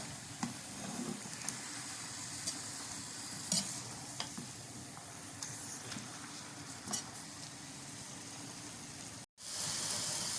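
Potatoes for aloo katli fry in a pan with a steady soft sizzle, broken by scraping and clinks as they are stirred and flipped, close up.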